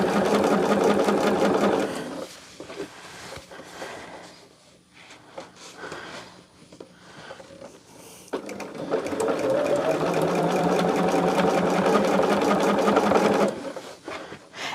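A sewing machine stitches fabric along a 1/8-inch seam in loud, steady runs, pausing briefly mid-way while the presser foot is lifted and the piece turned, then resuming.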